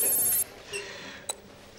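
A telephone rings once with a bright, loud electronic trill that cuts off abruptly, leaving faint room tone and a small click, in an Italian comedy film scene.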